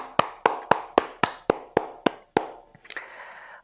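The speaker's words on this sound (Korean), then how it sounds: "우리의 찬양을 받으신 하나님께 우리 다시 한번 큰 영광의 박수 올려드립시다" A church congregation claps during a Sunday worship service, heard as a steady run of sharp, evenly spaced claps up close that breaks off into a softer, looser patter.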